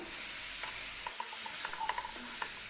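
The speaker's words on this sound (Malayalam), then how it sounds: "മാരിനേറ്റ് ചെയ്ത് വെച്ച് ചിക്കൻ ഇതിലേക്ക് ചേർത്ത് കൊടുക്കാം. ഇതിനി ഹൈ ഫ്ലെയിമിലിട്ടിട്ട് നല്ലപോലെ വറുത്തെടുക്കാം." Marinated chicken frying in butter on high flame, a steady close sizzle with light scraping and tapping as the pieces are stirred in the pan.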